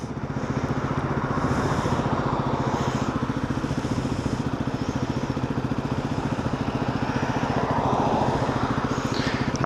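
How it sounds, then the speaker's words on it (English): A steady engine rumble with a pulsing low throb, like a vehicle idling or passing close by in traffic, continuous and fairly loud with no talk. "A lot of traffic."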